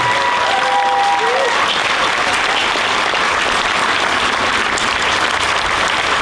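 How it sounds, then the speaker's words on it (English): An outdoor crowd at a Flag Day monument dedication and ribbon cutting gives a long, loud round of applause for the police and fire departments, dense and steady clapping throughout, with a few faint voices underneath. "Can we get a big round of applause for our police and fire?"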